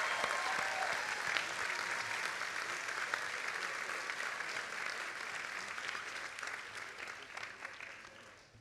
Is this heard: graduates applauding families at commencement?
yes